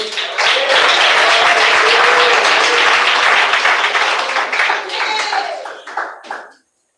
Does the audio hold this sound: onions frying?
no